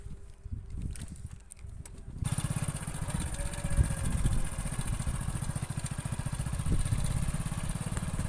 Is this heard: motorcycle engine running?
yes